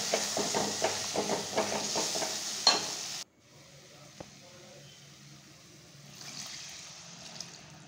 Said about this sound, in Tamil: எல்லாத்தையும் நம்ம கலந்து எடுத்துக்கலாம்.